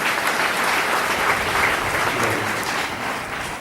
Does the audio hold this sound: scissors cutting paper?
no